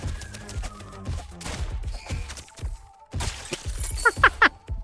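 Scattered gunshots and sharp impacts in ENA Dream BBQ, a handful of loud cracks and clattering hits spaced irregularly, with a few bright ricochet-like pings near the end.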